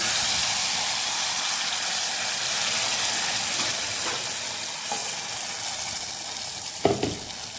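Masala paste hitting hot tempering oil for a Konkani-style Bombay duck curry: loud, constant sizzling and frying hiss fills the clip, with a few sharper crackles and bursts near the end.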